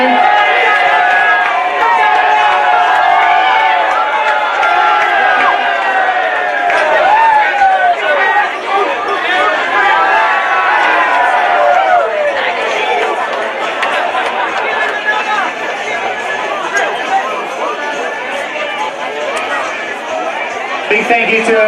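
Crowd at the 2019 AFL North West NSW men's grand final between Gunnedah and New England, a steady loud wash of chatter and cheering that holds throughout, with a dense murmur of many voices and no clear rhythmic clapping.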